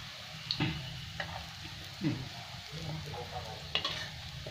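Onions frying in oil are stirred in a pan, giving a faint continuous sizzle broken by a few soft scraping strokes of the spoon, heard close and quiet.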